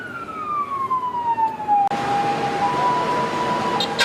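An ambulance siren wailing in traffic on a busy road, a loud descending tone that then steadies, with a sudden shift partway through.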